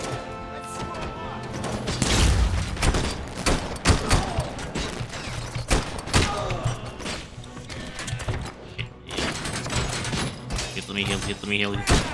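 Gunfire in the RoboCop: Rogue City video game, loud repeated shots and impact crashes spread across the clip amid busy game noise, with a player talking over it.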